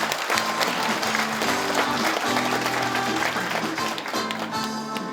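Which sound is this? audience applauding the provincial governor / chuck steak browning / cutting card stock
audience applauding the provincial governor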